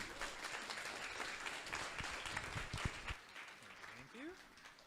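Audience applause at a live talk on brand design in Vancouver, a steady moderate wash of clapping from a crowd, heard from a distance with a few voices under it.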